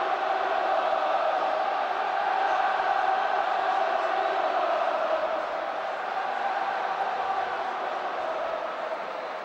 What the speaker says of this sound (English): The crowd really getting behind Hull.